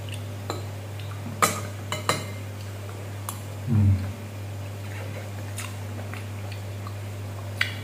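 Sparse clinks and taps of a spoon against a plate during a pre-dawn Ramadan meal of raw vegetables, close by, irregular and light, over a steady low hum, with a brief soft rustle midway.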